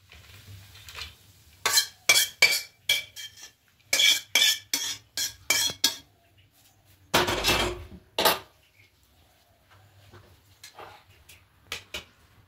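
A utensil stirs and tosses vegetable egg chow mein in a pan, giving bursts of clinking, scraping strikes in quick rhythmic runs broken by short pauses. The sounds are close and fairly loud, with no speech.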